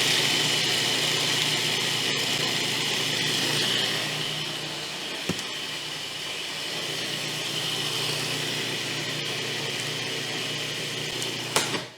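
Food processor grinding psyllium husk, cinnamon and salt into a coarse flour, a steady loud whirring motor drone running continuously, easing slightly midway and cutting off at the end.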